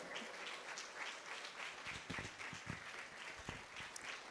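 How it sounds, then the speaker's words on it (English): A conference audience applauds to welcome a keynote speaker at a College of Health Sciences postgraduate event, quiet and distant-sounding clapping that carries on steadily with a few sharper hand claps standing out. "with a round of applause, of course."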